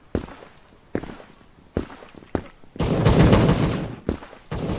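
Sharp gunshots in the first-person shooter video game Krunker crack out one at a time in a spaced, irregular rhythm, loud and close, with a denser burst of firing in the middle and footsteps between shots.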